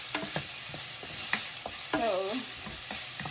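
Green onions sizzle and fry in a pan for lobster fried rice, a soft steady crackle with occasional stirring scrapes and a brief word spoken.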